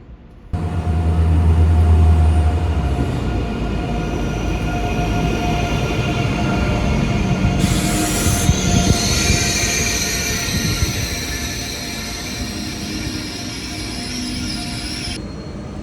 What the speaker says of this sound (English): But after a 5-minute delay, the train is finally arriving.